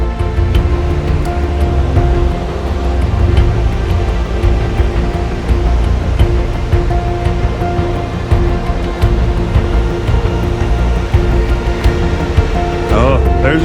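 Rushing glacier stream water in the mountains, a loud, dense, continuous roar of turbulent flow heard close up, steady throughout with no pauses.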